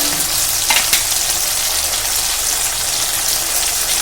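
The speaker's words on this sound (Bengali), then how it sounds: "এই তেলের মধ্যে আমি টমেটোটা এবার দিয়ে দেব টমেটোর বাটাটা টমেটোর পেস্টটা কিন্তু সুন্দর করে কষে নেব" Tomato paste sizzling and frying in hot oil in a pan, a steady dense hiss with a brief stir scrape near the start, loud and close with no talk.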